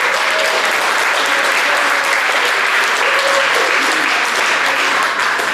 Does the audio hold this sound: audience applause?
yes